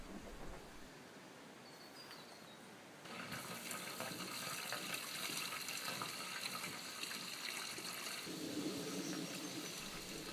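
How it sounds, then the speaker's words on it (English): Kitchen sink waste water runs from a white pipe into a tub, a steady broadband gush of flowing water that grows louder and fuller after the first few seconds and continues unbroken to the end. "The kitchen sink waste comes out of the white pipe and goes into the tub."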